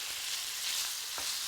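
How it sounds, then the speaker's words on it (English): Chicken pieces pan-frying in a little oil give a steady, close broadband sizzle with a brief louder spatter near the end, with no talking. "pan frying in little oil."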